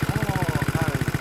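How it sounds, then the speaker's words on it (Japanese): A Yamaha BW'S 125 scooter with a BMS exhaust idles close by, giving a rapid, even thumping pulse that stays steady throughout. "ビームスのマフラーで、エンジン音、"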